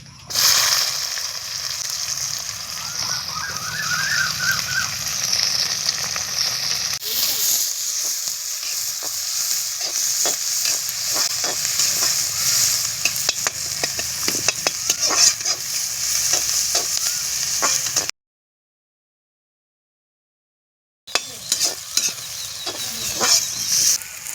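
Steady sizzling of three chopped big onions frying in hot oil for tempering, with repeated scraping and stirring sounds, close up; a brief silent gap near the end before sizzling resumes.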